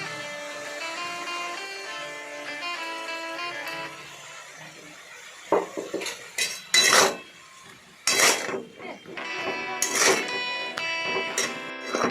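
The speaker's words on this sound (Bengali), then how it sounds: "এদিক ওদিক করে নাড়াচাড়া করে ভাজলাম।" A utensil clinks and scrapes against a pan in irregular bursts as Amudhi fish is stirred and fried, loud and close over soft background music.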